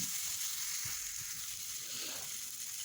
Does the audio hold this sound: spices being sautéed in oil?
yes